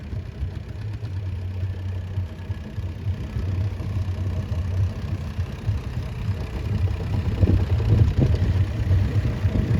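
A Series 2 or 3 Marshall tractor engine idles steadily up close at a steam rally, with a low, throbbing rumble that grows slightly rougher and louder toward the end, no voices.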